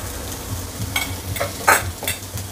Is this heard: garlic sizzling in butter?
yes